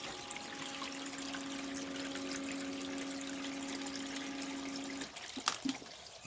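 A battery-powered pump running river water through a gold sluice gives a steady close trickle and splash with a constant motor hum, which cuts out near the end and leaves a few scattered drips and knocks.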